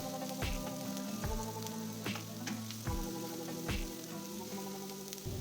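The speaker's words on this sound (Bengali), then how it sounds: "পেঁয়াজ কুচিগুলো 2 মিনিট ভেজে নেব।" Chopped onions fry in oil in a wok, a quiet, steady sizzle broken by intermittent clinks and scrapes of stirring, with no talking.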